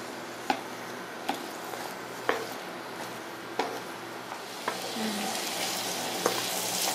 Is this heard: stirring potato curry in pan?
yes